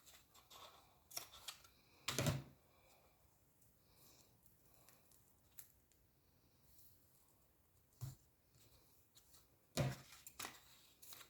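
Scissors snipping close by in a quiet room, with a few short bursts of cutting separated by long pauses, along with light handling and rustling sounds.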